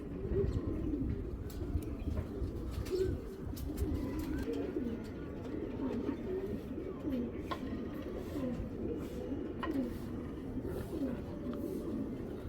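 Pigeons coo continuously in soft, rolling calls from close by, with several birds overlapping and a few faint chirps and clicks mixed in.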